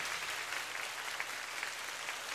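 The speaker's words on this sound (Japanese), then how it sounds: "スタッフにも拍手を" Steady applause from a concert hall audience at a Kyoto tour-final rock concert, a dense continuous wash of many hands clapping at moderate distance, even in level throughout with no voices on top.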